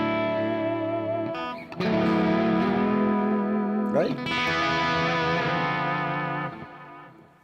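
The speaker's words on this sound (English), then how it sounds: "it's putting out this delayed signal, which is not as strong as your initial guitar signal" An electric guitar through overdrive and delay pedals rings out sustained, distorted chords with echoing repeats trailing behind, loud and close, with a brief spoken word between strums.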